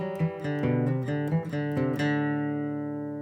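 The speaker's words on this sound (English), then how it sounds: "We've got a couple pickup notes to start this tune." On an acoustic bluegrass guitar, a few pickup notes of Turkey in the Straw are picked, then a final chord rings. The playing is clean, close and moderately quiet, with no talking.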